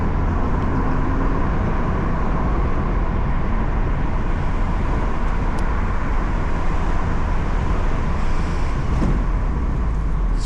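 Steady engine and road noise from a Mazda MX5 held in fourth gear on a country road, a constant even drone with wind and tyre roar throughout, no talk.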